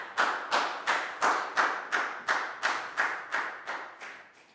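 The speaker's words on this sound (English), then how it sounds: "High five and a big round of applause for Lakgao, please, guys." A class of young students claps together in a steady unison rhythm for a classmate during a maths lesson, about ten sharp, evenly spaced group claps, close and fairly loud.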